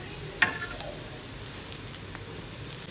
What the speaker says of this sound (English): Shallow fry them over towel with some butter.